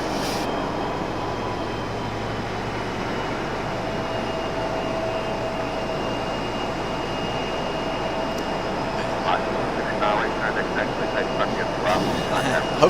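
An airliner flies near Raleigh-Durham airport, its jet engine a broad, steady roar that holds loud for the whole stretch, with a voice briefly audible near the end.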